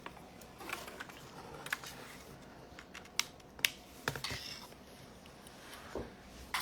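Light, soft clicking of keys on a computer keyboard, irregular and faint, with a few sharper taps standing out over a quiet room background.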